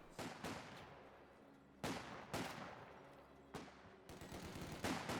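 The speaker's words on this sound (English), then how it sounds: "We do now have an MG42 now pushing its way forward over there." Bursts of MG42 machine gun fire in a Company of Heroes 2 battle, several loud rattling volleys a second or so apart, each fading out before the next.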